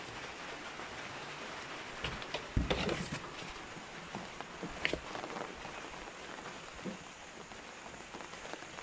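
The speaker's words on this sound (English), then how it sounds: "The rain gentle falls." Gentle rain falls steadily outdoors around a simple home dinner, a soft continuous patter with a few louder drips and knocks against surfaces, heard alone without talk.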